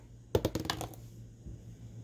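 Dice rattle and tumble across a table in a book-themed Monopoly-style board game: a quick cluster of sharp clicks and bounces, close and fairly loud, settling within about half a second.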